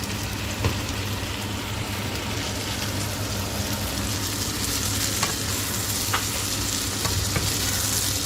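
Parboiled asparagus sizzles steadily in a frying pan, a dense close crackle with occasional scrapes and clicks as it is stirred, no voices present.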